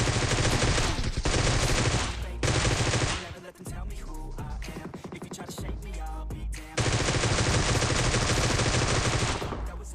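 Gunfire rattles through a gunfight in the video game PUBG Mobile: loud, dense bursts of rapid shots open and close the stretch, with quieter scattered shots and clatter in between.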